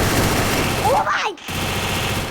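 Dense, rapid automatic gunfire from a Free Fire mobile shooter match, loud and continuous, with a brief dip in the noise partway through before the firing resumes.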